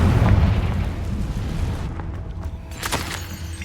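The Confringo fire spell bursts in Hogwarts Legacy with a heavy rumbling boom up front that rolls off into a crackling, fading tail.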